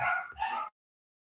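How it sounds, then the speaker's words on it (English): Dogs barking loudly in a home, two close yapping bursts filling the first 0.7 seconds before the sound cuts to silence. "My dogs be loud as hell in the background."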